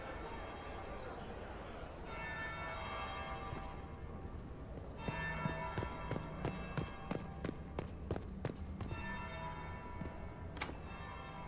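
A church bell tolls repeatedly inside the fantasy world of Dragon Age: Inquisition, its struck tones ringing out one after another over a steady background hum, with a voice also present.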